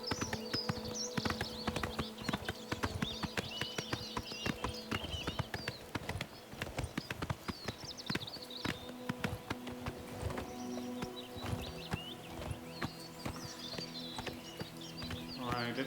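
A horse walks in Oblivion Remastered, its hooves clip-clopping in a steady, even rhythm across the whole stretch, crisp and close, with a sustained musical backdrop and faint birdsong.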